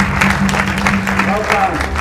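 An audience at a Western Cape sports awards ceremony applauds in a dense, steady wash of clapping with a low hum underneath, mixed with a voice over a speaker system.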